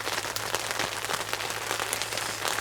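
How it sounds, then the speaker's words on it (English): Rain drumming on a tent in cold, wet conditions, a continuous close patter of drops with scattered sharper taps throughout, no talking. "it's raining"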